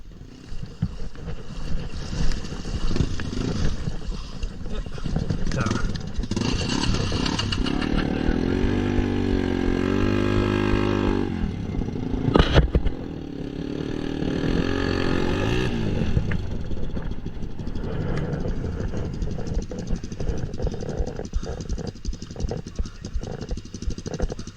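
A DRZ400 motorcycle grinds up a steep rocky incline after a river crossing in Cape York, its engine revving and straining in surges with gear changes and clattering over stones, loud and close throughout.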